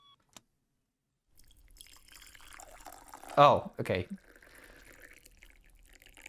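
Water pours briefly from a teapot in a visual novel scene, a soft splashing stream that swells and stops, with a speaking voice around it and quiet stretches on either side.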